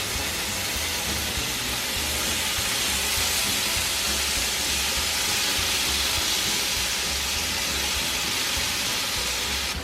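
Bacon frying in a pan over medium heat for a cheeseburger, a steady dense sizzle and hiss that runs unbroken and fairly loud, with no voices over it.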